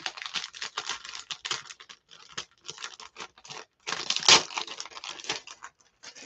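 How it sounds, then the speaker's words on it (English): Adhesive tape being pulled and torn for a scrapbook page gives a series of short, close rasping rips and crinkles in uneven bursts, with brief pauses and a louder tear near the middle. "Let's get some tape going on here."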